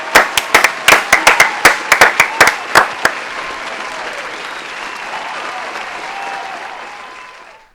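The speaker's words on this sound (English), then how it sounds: "let's give him a warm round of applause" At a youth night event, a string of loud, sharp, close claps rings out for about three seconds, then gives way to a sustained wash of crowd applause that gradually fades out.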